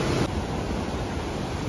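Rushing water of Iguazu Falls seen from the Argentina side, a dense, constant roar of heavy falling water, loud and steady throughout the short stretch.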